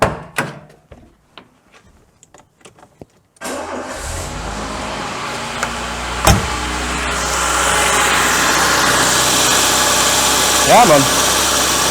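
A carburetted Citroen BX is cranked after some clicks and clatter, then catches and settles into a steady close idle with a few revs, while someone speaks briefly.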